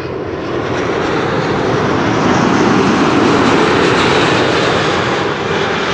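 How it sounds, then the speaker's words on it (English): A KLM Boeing 777-200 jet arrives after a long-haul flight, its engines giving a loud, steady broadband roar that holds for the whole stretch with a slight swell in the middle, no voices over it. "This is KLM flight 755. It is a 777-200."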